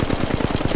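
Rapid automatic Flatline assault rifle fire in the mobile shooter Apex Legends Mobile, a close, loud, steady burst of evenly spaced shots lasting under a second, with no talking.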